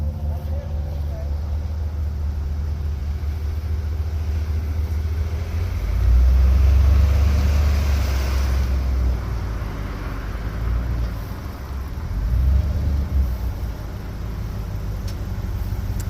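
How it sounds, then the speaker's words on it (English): A Jeep Wrangler YJ rolls into a residential driveway as a deep, steady engine rumble that swells louder for a few seconds, eases off, then surges once more. "here's our new Jeep Wrangler YJ coming on into the driveway"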